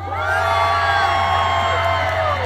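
A concert audience of Incheon residents at a show lets out a loud, sustained roar of cheers, whoops and high shouts, steady for the whole stretch with no pause.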